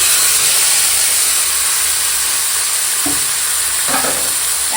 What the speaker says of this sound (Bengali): এখন দিয়ে দেবো ওই যে মেখে রাখা মাংসটা আর এর উপরেই টমেটোটা দিয়ে দিয়েছি